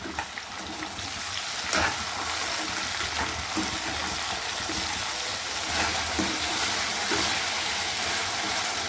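Chopped onions and two tomatoes frying in hot oil in a pan for spiced tempered rice, a soft continuous sizzle and crackle with occasional small pops, fairly quiet and steady.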